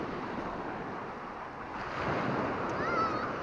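Surf washing ashore on a Greek resort beach lined with sun loungers, a steady broadband wash that swells louder near the end, with some wind noise across the microphone.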